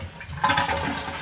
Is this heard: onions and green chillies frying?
no